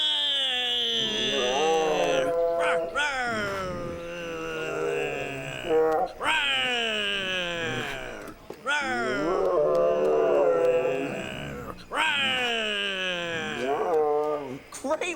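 Several voices take turns doing loud, drawn-out imitations of Siberian tiger roars, each a rising and falling growl-howl lasting about two to three seconds, repeated in a steady series with short gaps between.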